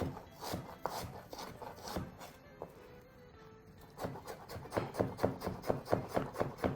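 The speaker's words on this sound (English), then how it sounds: "finish by chopping that nice and fine" Knife finely chopping onion on a cutting board for zucchini enchiladas: a fast run of sharp, close taps, pausing briefly midway, then resuming in a steady, rapid rhythm.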